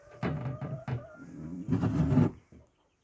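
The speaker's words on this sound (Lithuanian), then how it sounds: "čia deda kiaušinukus viena višta" A hen in a henhouse built for ten hens, clucking while she lays eggs: a few soft, throaty clucks, then a longer drawn-out call, close by and quiet, followed by a short silence.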